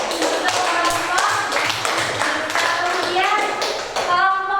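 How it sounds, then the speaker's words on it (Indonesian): A classroom of fourth-grade pupils clapping for a group of classmates, quick dense applause that runs throughout with children's chatter mixed in and a few louder taps. "Tepuk tangan dulu. Untuk kelompok."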